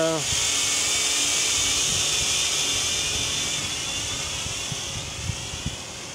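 A Cheerson CX-33C quadcopter drone flies outdoors, producing a steady high-pitched electric whine and buzz from its propellers that holds close and fairly loud throughout, with a few faint knocks toward the end.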